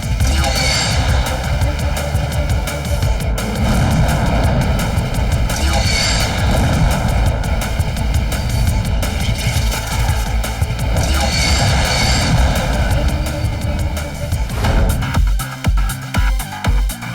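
Cartoon fighter jets and airplane engines roar loudly and continuously, with a throbbing, surging drone that swells and fades over the scene before a brief dip near the end.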